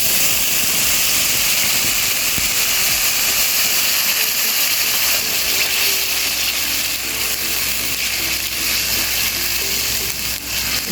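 Onions dropped into hot oil with whole spices, sizzling loudly and steadily as they fry in a pan for lauki gosht, a dense continuous hiss close up.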